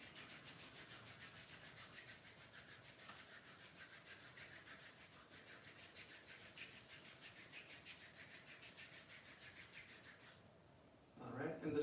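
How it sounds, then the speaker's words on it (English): Palms of the hands rubbed briskly together in a quiet room, giving a soft, continuous, evenly pulsing friction hiss for about ten seconds before it stops. "So just rubbing the hands together, the palms of the hands."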